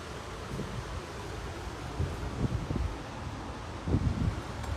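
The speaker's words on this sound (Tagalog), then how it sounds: "Grabe ang hangin." Steady gusting wind roars across an open microphone at the seaside, with low rumbling buffets swelling and easing throughout and no voices.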